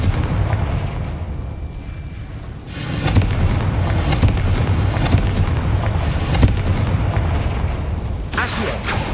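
Confringo blasting spells exploding in Hogwarts Legacy gameplay, a run of loud booming blasts over dense battle noise, several bursts following one another in quick succession.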